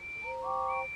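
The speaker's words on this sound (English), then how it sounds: "whistled Thomas, and all the engines tooted." Steam engine whistles from a Thomas the Tank Engine style Trainz model railway scene, several clear tonal toots at different pitches overlapping briefly over a soft background hiss.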